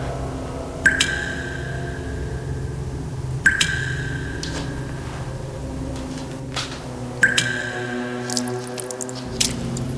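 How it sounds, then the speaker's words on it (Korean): Water drips in a quiet indoor space, three or four sharp, clear drops spaced a few seconds apart, each ringing briefly over a faint hum. "물이 어디서 떨어지는 거야?"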